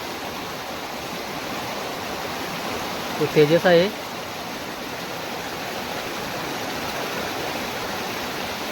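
Stream water rushes steadily at a low flow through a Konkan crab-catching spot, a constant broadband wash that holds throughout, with a brief voice breaking in near the middle.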